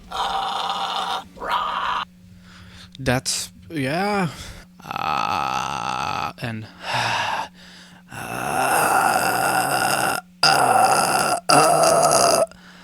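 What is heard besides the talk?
vocal fry scream technique demonstration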